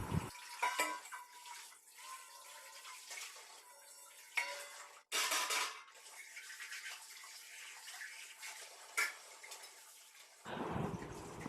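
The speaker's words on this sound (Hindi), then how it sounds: "तो चलिए बर्तन धोती हूँ" Dishes, pots and a kadhai being washed in a home kitchen, with clanks and scrapes of metal utensils, bursts of running tap water and quiet gaps between, no talking.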